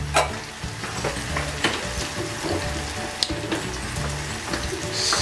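Tomatoes fry in a pan for vegetarian sinigang, giving a steady, close sizzle with scattered stirring clicks and pops throughout; no talking.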